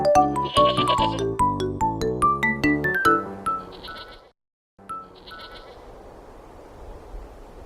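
A quick run of tinkling, bell-like notes plays before an animated goat bleats, followed by a short pause and a quieter stretch of faint noise.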